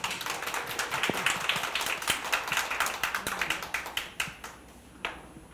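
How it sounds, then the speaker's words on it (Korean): Audience applause at a spring regional studies seminar in Jochiwon, a steady patter of many hands clapping with sharp individual claps standing out, sustained and then thinning toward the end, with no talking over it. "큰 박수로 모시겠습니다"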